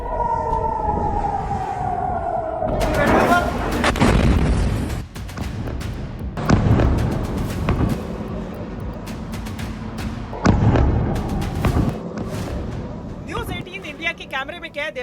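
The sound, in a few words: Iranian missiles and possible cluster bombs striking Israel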